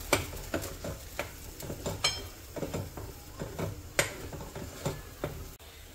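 Masala sautéing in oil in a kadhai for a village-style chicken dish: soft sizzling under irregular scraping and stirring strokes, with occasional sharper taps of the spatula against the pan.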